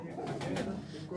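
Pigeons coo softly in a breeding loft, low murmuring calls running steadily through the short moment with a voice talking over them.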